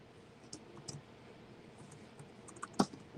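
Typing on a faulty computer keyboard that keeps shutting off, faint scattered key clicks at an uneven pace with one sharper tap near the end, in a quiet room.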